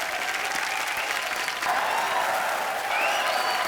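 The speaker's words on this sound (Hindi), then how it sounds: "जोरदार तालियां।" Studio audience applauding on The Kapil Sharma Show, a TV comedy show, with dense, steady clapping from a large crowd sustained throughout and a few faint cheers.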